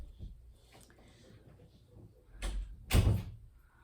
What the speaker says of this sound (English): Okay, shut the door, please.